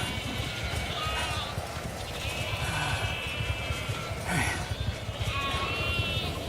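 Sheep bleat repeatedly in the survival game The Alters, several wavering calls spaced across the scene over a constant low ambient hum.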